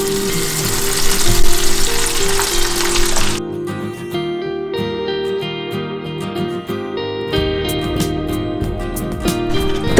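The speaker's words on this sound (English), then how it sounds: "I'm going to melt unsalted butter in a heavy bottom pan on low heat" Unsalted butter melts and sizzles on low heat in a heavy-bottomed pan for ghee, a steady crackling fry that thins to sparse pops and bubbling; no one speaks.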